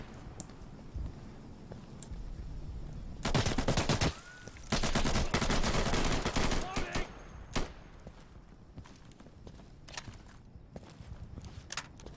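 Gunfire in the Insurgency video game, with a loud burst of rapid automatic shots sprayed at enemies in two bursts midway through, followed by scattered single cracks and distant shots over a busy battlefield background.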